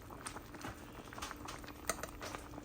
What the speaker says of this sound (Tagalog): Ngayon, pakukuluan na lang natin yan.